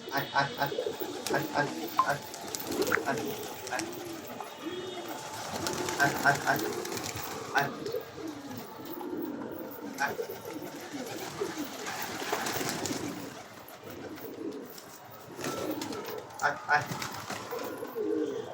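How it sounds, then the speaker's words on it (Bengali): A black Muslodom pigeon cooks low, repeated throaty coos while held on a rooftop loft, close and steady throughout, with someone talking over it at times. "আমি কবুতরটা ধরে দেখাচ্ছি আপনাদের"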